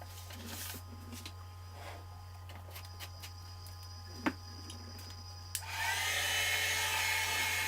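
After several seconds of near quiet with a few small clicks and taps, a heat tool switches on and blows a steady whooshing hiss over gold embossing powder on cardstock for the final two seconds.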